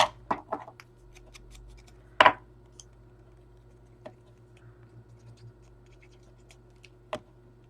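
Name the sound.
scissors cutting fabric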